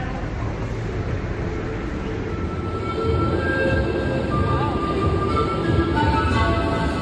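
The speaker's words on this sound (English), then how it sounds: "First time going down the subway." A New York City subway train rumbles steadily at close range, a dense low roar of wheels and carriages that swells louder partway through, with faint squealing tones above and no clear talk.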